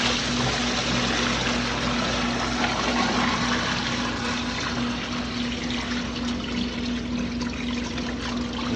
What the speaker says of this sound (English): we're adding in a new thing of water